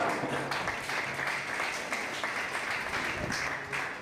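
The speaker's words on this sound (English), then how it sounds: "Maybe we can clap for all those really part of all of this." Applause from a crowd at a press statement on the Edo State governorship election, a steady wash of many hands clapping at moderate level, with faint voices mixed in.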